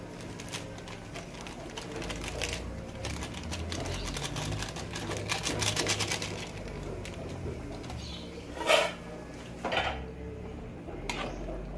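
Shrimp sinigang with tamarind mix and taro stirred in a pot, with steady scraping and clattering of a utensil against the pot, close up, followed by a few sharper knocks near the end, and no talking.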